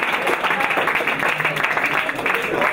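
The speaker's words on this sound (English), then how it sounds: "a round of applause from the kids to the parents right now" Applause from children for their parents at a water polo team awards banquet, a steady dense wash of clapping filling the room with some voices mixed in.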